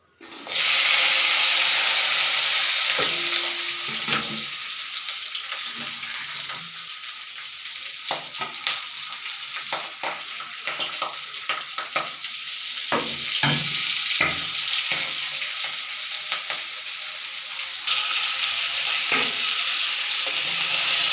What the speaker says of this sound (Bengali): এবারে ফোড়ন দেবো